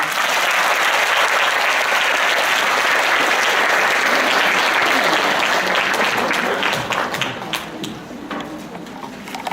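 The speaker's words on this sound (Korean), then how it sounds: "따뜻한 강의해 주신 이윤아 이사장님께 다시 한번 뜨거운 박수 부드립니다" An audience at a hospital lecture hall in Seoul claps loudly and steadily after a special lecture, the dense applause holding for several seconds before thinning into scattered claps near the end.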